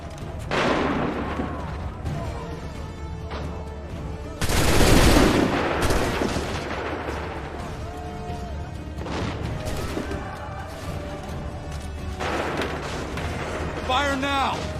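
Musket volleys in Assassin's Creed III: loud massed gunfire crashes repeatedly, with one especially heavy burst in the middle and smaller cracks and clatter between, while voices talk and shout over the battle.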